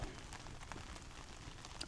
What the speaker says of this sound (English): Well, it is sprinkling again, raining,